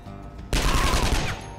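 Gunfire in Skyshine's Bedlam: after a low hum, a dense volley of loud, rapid automatic shots erupts suddenly and rattles on steadily as one continuous burst.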